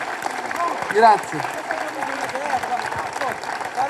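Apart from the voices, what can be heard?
audience applause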